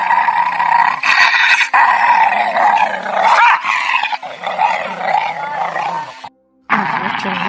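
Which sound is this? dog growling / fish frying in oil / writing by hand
dog growling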